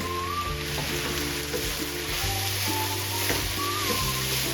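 Onion and leek sizzle and fry steadily in a pan, a close, continuous crackle with occasional scraping as the mixture is stirred.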